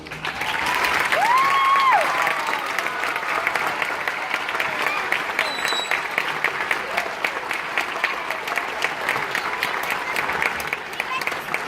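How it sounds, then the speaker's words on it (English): Audience applause at a school Christmas concert, sustained clapping from a crowd filling the room, with a brief whistle-like tone near the start. "Let's give our teachers another round of applause."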